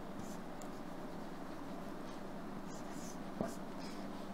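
A pen scratching on paper while numbers are noted down, faint and close with short strokes and a small tap near the end, no talking.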